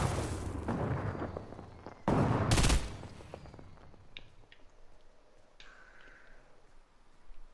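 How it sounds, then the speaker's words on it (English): Assault rifle gunfire in Fortnite, a short burst of sharp shots around the middle followed by fainter scattered pops and game effects in the background, with no talk. "Three more AR shots."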